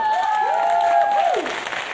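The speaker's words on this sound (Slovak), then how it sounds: "A veľký potlesk." Applause rises from the audience at the Orange Podcast roka Slovak podcast awards ceremony, a steady wash of clapping that continues alongside a sweeping electronic musical sting.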